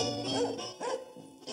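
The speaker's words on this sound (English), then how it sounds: "Sounds like the bark of a happy dog." A dog barks in a short, lively run of a few yips and woofs, close and moderately loud, with brief gaps between the bursts.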